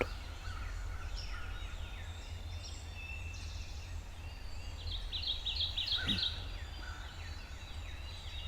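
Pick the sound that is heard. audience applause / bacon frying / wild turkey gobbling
wild turkey gobbling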